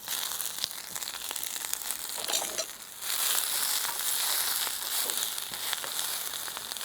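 Dandelion greens torn by hand and dropped into a hot frying pan by a lakeside, setting off a continuous crackling sizzle that rises sharply partway through, with no voices.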